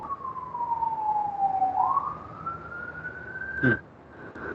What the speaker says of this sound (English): Was that a real cop sound in the background? It's probably an ambulance.